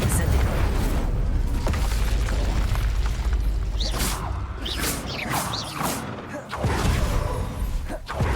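A Confringo blasting spell in Hogwarts Legacy goes off in a series of booming explosions and whooshing bursts over a low rumble, with several sharp impacts toward the end.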